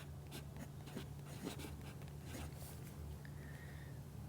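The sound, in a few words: fountain pen with fine nib writing on paper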